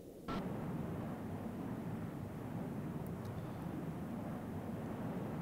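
A US F-105 jet fighter in the flight game Strike Fighters 2 roars steadily in a broad, continuous engine rumble. The sound swells in abruptly and then holds, with no voices over it.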